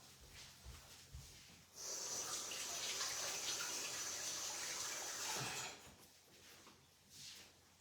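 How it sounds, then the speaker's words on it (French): A kitchen tap runs for a few seconds as something is rinsed beneath it. The water makes a steady close hiss that starts and stops abruptly, with faint handling noises before and after. "je vais juste la rincer celle-là"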